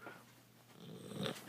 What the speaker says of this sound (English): You are snoring super duper loud.